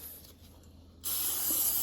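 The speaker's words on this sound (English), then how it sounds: "spray a little non-stick spray on your fingers" Non-stick cooking spray misted onto fingers while baking chocolate chunk cookies, a close, steady hiss lasting under a second after a quiet pause.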